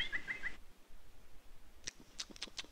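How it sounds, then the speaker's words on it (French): Cartoon birds arriving to feed on wheat in the Adibou video game, with a few short chirps at the start and several quick, light tweets near the end over a faint, quiet background. "les oiseaux viennent manger, c'est bien."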